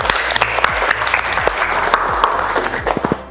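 Classroom applause from a group of students, a dense, lively clatter of hand claps that stays loud and steady for a few seconds.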